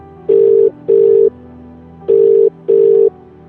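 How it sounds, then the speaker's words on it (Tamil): Telephone ringback tone for an outgoing call: four loud, steady electronic beeps in two pairs, each pair separated by a pause, with no voices. "இப்போ சுந்தரத்துக்கு ஃபோன் அடிச்சு காசு கேட்குறான்"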